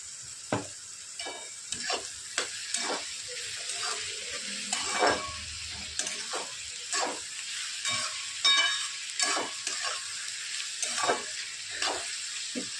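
Egg bhurji sautéing in a pan, with repeated scraping stirs of a spoon against the pan over a steady frying sizzle, close and moderately loud, no voices.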